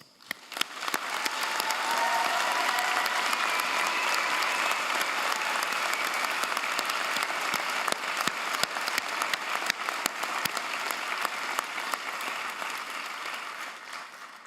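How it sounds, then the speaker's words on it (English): Graduates at a university convocation applaud their families, friends and mentors, the clapping swelling quickly to a full, even roar and continuing steadily before easing off near the close. "recognize those who have supported you along the way, your family, friends, faculty, and mentors, with a round of applause"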